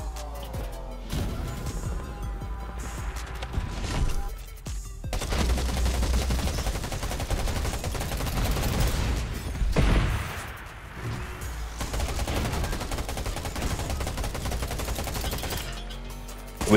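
Gunfire in Undawn aimed at a vehicle: bursts of rapid automatic shots, some loud and close and others quieter, broken by brief pauses.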